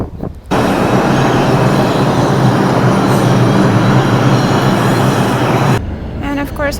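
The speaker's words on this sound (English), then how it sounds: "looks like my train is coming" A train pulls into a station with a loud, close rumble and rolling roar. The sound holds steady for about five seconds, then drops away abruptly.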